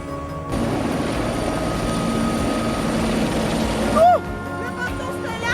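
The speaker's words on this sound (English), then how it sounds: "O avião caiu!" Steady, loud aircraft engine roar during a plane crash, with a broadband drone holding throughout, a brief surge near the end, and voices faintly present beneath.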